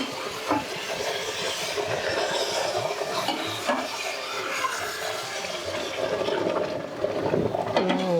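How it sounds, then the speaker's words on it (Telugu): Hot, already-heated water is poured quickly into upma in a pan, producing a continuous rushing, splashing hiss that stays steady throughout without pause. "వేడి నీళ్ళు ఆల్రెడీ వేడి చేసిన అవి పోసేస్తున్నా గబుక్కును"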